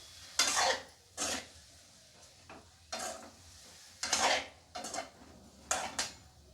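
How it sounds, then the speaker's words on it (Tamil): Cauliflower coated in masala is tossed in oil in a pan, with several separate scraping, stirring strokes and faint sizzling between them, close and quiet. "அப்படியே மசாலா அந்த காலிஃப்ளவரில் சேர்றது மாதிரி அப்படியே பிரட்டிக்கலாம் எண்ணெயில்"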